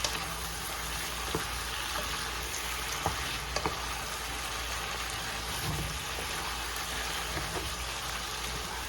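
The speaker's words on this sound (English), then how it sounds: "Not only you seared it, you're sauteing it too." Seared beef chunks sautéing for a mechado braise, giving a steady, moderate sizzle of hot fat with scattered small pops and stirring clicks throughout, no talking.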